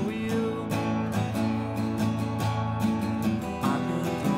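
Acoustic guitar strums the verse of a song, playing steady chords with repeated rhythmic strokes. The guitar is close, full and alone, with no voice over it.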